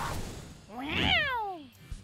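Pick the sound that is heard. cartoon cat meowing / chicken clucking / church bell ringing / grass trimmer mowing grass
cartoon cat meowing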